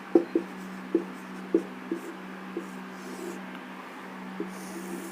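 Numbers written by hand with a pen or chalk, a string of short, crisp taps and scratches, several quick strokes early and then sparser ones, close and fairly quiet over a low steady hum.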